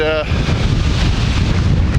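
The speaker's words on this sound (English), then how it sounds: "very windy today" Strong wind buffets the microphone beside a golf course hole at an RV park, a steady broadband roar with rumbling gusts throughout. A brief voice is heard at the very start.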